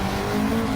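A Honda Civic Type R FL5 on a race track, its engine droning steadily under power with a sustained tonal whine, heard briefly and fairly loud without talk.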